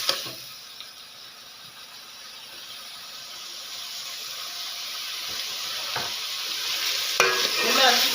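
Potatoes, added to a Punjabi-style tikka macaroni with chicken, onion and garlic, sizzle and hiss steadily in a hot pan while being stirred, with a few scraping clatters of the spoon near the end and no talking.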